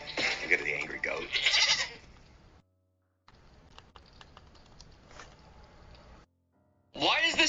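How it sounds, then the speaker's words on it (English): An angry goat bleats in loud, harsh bursts at the start and again at the end, with quieter rustling and indistinct sounds between. "So we'll end ours with an angry goat."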